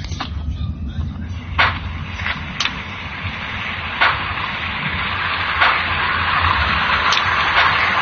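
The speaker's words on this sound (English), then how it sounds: "it's raining now." Rain falling in the Android survival game Survivalcraft, a steady hissing wash with a few sharp ticks and thuds scattered through it.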